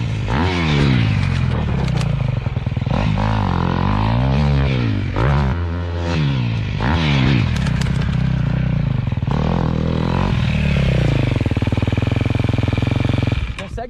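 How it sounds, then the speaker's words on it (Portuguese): A dirt motorcycle's engine revs and bogs repeatedly as the clutch is pulled for a big rear-wheel skid, with rising and falling engine notes and scraping tyre noise throughout while a person talks over it. "Vou puxar a embreagem e fazer uma grande derrapagem."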